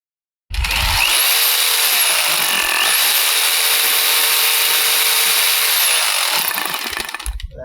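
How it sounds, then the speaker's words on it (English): A loud hammer drill grinds steadily into rock for several seconds, its harsh whine shifting in pitch as it bites into the hard material, then winds down. "see what happens if I hammer drill it"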